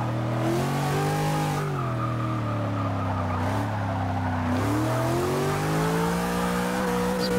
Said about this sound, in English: Spin the tires a little there, got on it